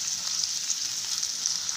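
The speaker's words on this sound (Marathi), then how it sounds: "आपण त्याच्यामध्ये कांदा टाकूया बारीक केलेला। कांदा परतून घेऊया।" Finely chopped onion sizzles steadily in hot oil for an aubergine curry, a dense, even frying hiss with small crackles throughout and no voices.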